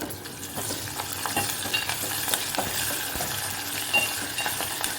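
Sesame seeds stirred into a sizzling tempering in a pan for a gongura meal maker curry, a steady close crackle of frying oil broken by repeated scraping and clinking strokes of the spoon, with no talking.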